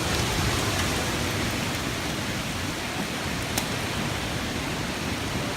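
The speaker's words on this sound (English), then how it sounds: "We got the rain going sideways here." Heavy sideways rain during Hurricane Irma, a dense, steady roar of rain and wind-driven water filling the whole stretch, loud and continuous with no talking.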